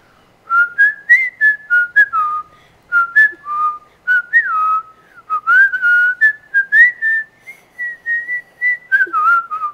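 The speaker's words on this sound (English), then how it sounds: "You just kind of whistle around, just waiting for an enemy to arrive." A person whistles a bouncy, meandering tune alone, with quick chirpy notes in short phrases broken by brief pauses, close and clear.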